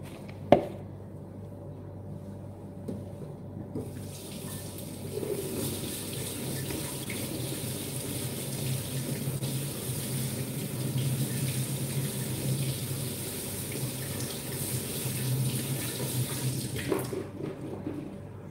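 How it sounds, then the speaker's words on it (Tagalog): Chilis being washed under a running kitchen tap, water streaming steadily and close for most of the clip after a brief clunk at the start, then cutting off near the end. "Yan, kamang chilis, hugasan ko muna."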